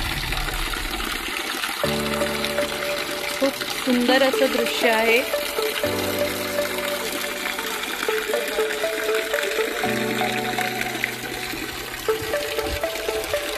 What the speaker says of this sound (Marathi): अखंड वाहणारा पाण्याचा झरा या गोमुखात आपण बघू शकतो